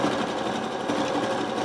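A sewing machine runs steadily, stitching a seam on a regular blouse, with a continuous close whirring hum that holds level for under two seconds and no voices.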